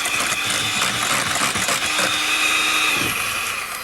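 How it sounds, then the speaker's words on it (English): Meringue mixture being whisked up in a bowl gives a steady, loud, close whirring drone that runs without a break for a few seconds, with no one talking over it. "how do we add air to the mixture? Well, we whisk it up like this."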